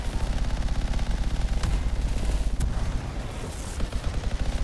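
Rapid heavy artillery fire in the video game Anthem, a loud continuous stream of pulsing shots with a few sharper cracks, close and steady, no talk over it.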